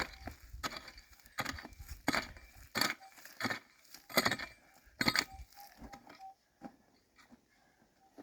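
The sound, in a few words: pick hacking into slate while digging for gold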